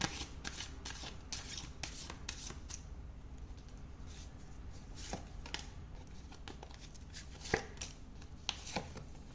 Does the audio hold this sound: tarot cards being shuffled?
yes